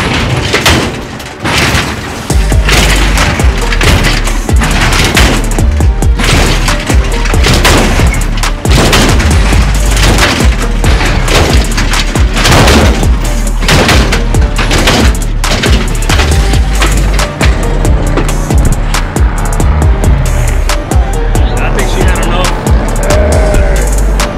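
A lowrider car hops on its hydraulic switches at a street competition, with repeated loud thuds, clanks and bangs in rapid bursts over a dense, noisy crowd and engine roar.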